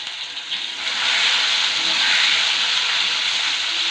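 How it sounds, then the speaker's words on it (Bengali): Potatoes hit hot oil and set off a steady, strong sizzling hiss that swells after the first second and holds close and loud, with no voices. "এই যে আলুগুলো গরম তেলের পরে দিয়ে দিলাম, দিয়ে একটু নাড়াচাড়া দিয়ে লাল লাল করে ভেজে নেব।"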